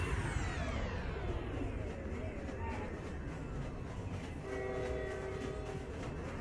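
A train in the Roblox game Jailbreak rumbles past with a low, continuous roar and a sustained tonal horn-like drone toward the end, under game noise.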